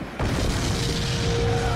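A grenade blast in a film action scene: a sudden deep boom lands right after a short lull, then a loud, sustained low rumble and roar fills the rest of the moment.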